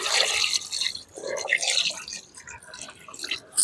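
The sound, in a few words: water being poured into a pot of chicken curry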